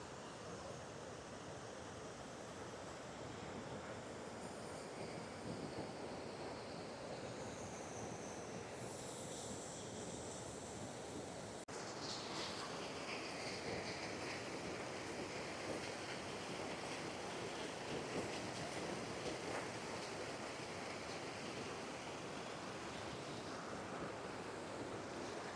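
Water pours down the three rocky steps of Rajupalem Waterfalls in a steady, dense roar that stays unbroken throughout, with wind buffeting the microphone.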